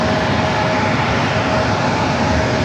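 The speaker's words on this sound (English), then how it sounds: "Next arrival is Delta Flight 2155, coming from Detroit at A321." A Delta Airbus A321 from Detroit arrives at San Diego airport, a loud steady roar of jet engines close by, unbroken and with no talking.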